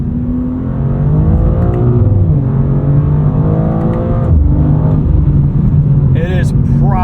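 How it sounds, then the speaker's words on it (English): A 2026 BMW M2 CS engine pulls hard under roughly half throttle, its note rising steadily with sharp drops at each quick automatic upshift. The sound is loud, close and continuous, heard from inside the car. "Just about half throttle there, snapping into the next gear."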